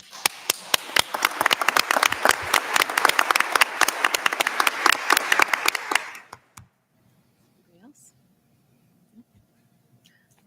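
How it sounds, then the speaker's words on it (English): A school board meeting audience claps, with dense, lively applause and distinct sharp individual claps for about six seconds before it stops abruptly, leaving near silence with a few faint knocks. "So we give you our applause too."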